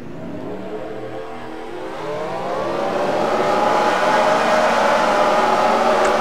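A field of race cars in a racing video game rolls off from the start at a Pennsylvania 400 event, engines droning and steadily rising in loudness and pitch as the pack builds speed, with no talk.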